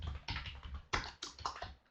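A computer keyboard being typed on, with a quick, close run of about half a dozen crisp keystrokes that trail off at the end.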